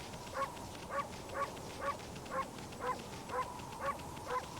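Wolf in the Okami video game gives a string of about nine evenly spaced short barks, quiet and regular in rhythm over a low background hum.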